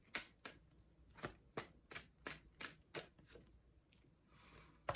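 Tarot cards being shuffled and pulled from the deck: a run of about a dozen crisp, rapid card riffles and flicks at close range, fairly quiet, with no talking.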